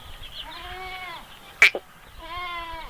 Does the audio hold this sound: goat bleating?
yes